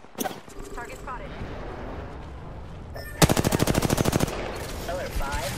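A rapid machine-gun burst rattles close and loud in a video game battle, with radio-style voices speaking before and after and scattered shots around it.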